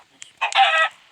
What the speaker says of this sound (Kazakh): Андай тауықтар.